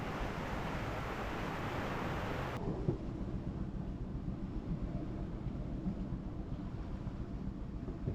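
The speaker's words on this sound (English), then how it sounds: "It started to storm again, and the winds picked up to like 25 knots." Strong wind, around 25 knots, roars over a sailboat in a thunderstorm as a continuous dense rush of buffeting noise and water, loud and close throughout.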